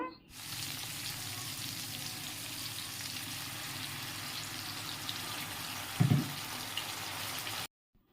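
Cloves, cinnamon and dry red chillies fry in oil with a quiet, steady sizzle, interrupted once by a brief louder clatter near the end before cutting off.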